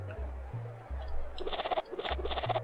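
A goat in the video game Secret of Evermore bleats in wavering, repeated calls over a low, pulsing game soundtrack, fairly quiet overall.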